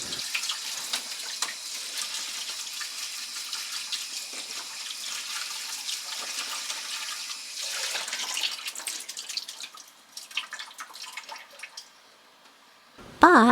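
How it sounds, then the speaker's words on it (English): Salad vegetables, naturally grown, are rinsed under a running kitchen tap, the water splashing steadily and close, shifting in tone as the greens move, then thinning to a trickle before a brief clatter at the end. "While the somen is cooking, I wash the salad."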